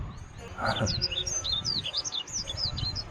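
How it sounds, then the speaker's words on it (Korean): Small birds chirp in a quick series of bright, high twittering calls in a mountain forest near a temple in Jecheon, fairly close and clear over soft background hiss, with a brief low murmur of a voice. "새소리도 들리네"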